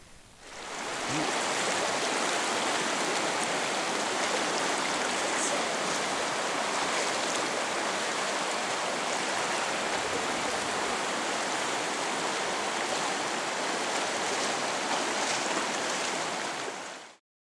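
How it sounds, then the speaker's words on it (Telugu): A fast mountain stream with rocky footing on a trail to a hillside cave gives a steady, close rushing of water that fills the whole stretch evenly, with no distinct footsteps standing out. "ఈ పారే నీటిలోనే అడుగులో అడుగు వేసుకుంటూ నిదానంగా నడక సాగిస్తున్నాము"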